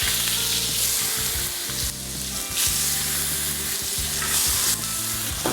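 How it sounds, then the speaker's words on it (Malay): Goat meat fries in oil in a wok, a loud, continuous sizzle and crackle with stirring scrapes and bursts of spitting throughout, close up and without talk. "Kita memang menggunakan kuali untuk membakar kambing"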